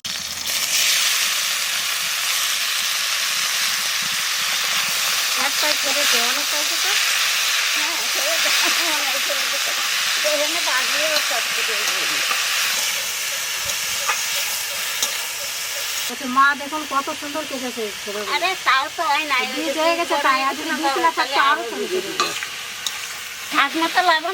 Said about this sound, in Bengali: তো তেলের পর দিয়ে দেবো কালো জিরে আর দেবো তিনটে কাঁচা লঙ্কা এইবার খেরো দিয়ে দেবো